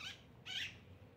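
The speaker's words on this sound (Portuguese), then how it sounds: "As maritacas. Acabado de passar aqui." Maritaca parakeets passing near a mulberry tree call in two brief, bright bursts, the second louder and rising before fading, over a soft low outdoor background.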